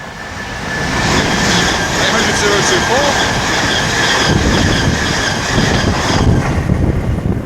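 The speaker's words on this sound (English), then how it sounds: "And then we have a IET about to pass by." An IET electric train passes by, building into a steady, loud rolling rumble with faint high wheel squeal, partly mixed with gusty wind noise.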